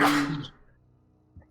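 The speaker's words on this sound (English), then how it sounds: "that was a thorough sneeze." A single sharp, forceful human sneeze bursts out close and loud, then quickly fades into near silence with a small breath at the end.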